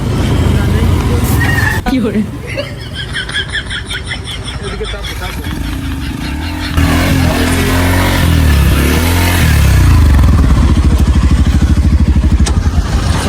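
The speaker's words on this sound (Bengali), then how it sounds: "আর এই ফোনের উপর দিয়ে হুন্ডা চলে যাবে" A motorcycle, referred to as a Honda, runs over a phone lying on the ground. The engine is loud and nearby, with a sputtering idle that builds into a heavier rumble as the bike rolls forward, and people talk over it.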